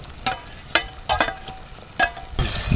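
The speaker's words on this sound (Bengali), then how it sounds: "এবার দিয়ে দেবো ভেজে রাখা আলুগুলো।" Fried potatoes dropped into hot spiced oil in a pan for a Bengali potol dish, sizzling close by with several sharp bursts as pieces land and are stirred.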